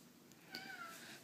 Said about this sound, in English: That's the cat crying because he wants to be friends with her.